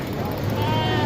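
A Sindhi goat, a desi cross, bleats once in a short call at a busy Lahore Bakra Mandi livestock market, with crowd chatter and voices around it.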